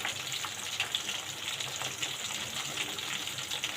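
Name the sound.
water being drained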